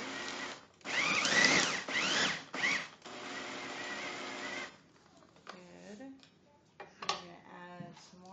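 A small food processor blends oats with olive oil, its motor whirring loudly in several close bursts, then it stops and a person talks over quieter clinks.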